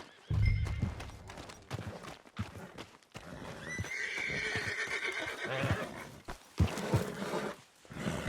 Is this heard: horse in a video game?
yes